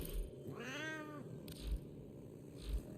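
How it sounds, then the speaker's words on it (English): A cat meows once in a rising-falling cry, set against a steady low hum of game sound during a Saturday-night PS5 gaming session; no one speaks. "that sound of the cat is my pet"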